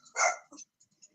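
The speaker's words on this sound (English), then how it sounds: "My dog is barking." A dog at home gives one sharp, close bark followed by a couple of faint, brief yips, with no talking over it.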